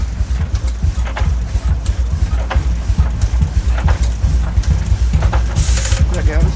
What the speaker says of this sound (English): You can see the valve train working on the top.